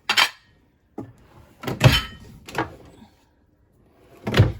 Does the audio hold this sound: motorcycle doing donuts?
no